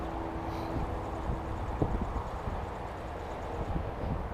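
Strong wind blows across a small pond, making a steady, loud low rumble of buffeting that runs through the whole stretch, with brief faint knocks and no talking.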